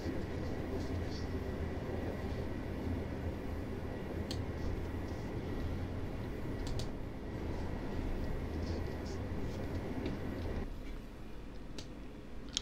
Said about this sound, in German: Vorerst möge der Zug einfach vor sich hin rollen.